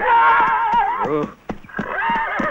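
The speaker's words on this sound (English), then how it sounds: "Good horse." A horse whinnies loudly and close, a long quavering neigh that breaks off briefly and then rises again, with a few hoof thuds in between.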